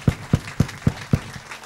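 A church congregation clapping in unison to acclaim the word of the Lord: five firm, evenly spaced claps in a quick steady rhythm, then a brief trailing pause.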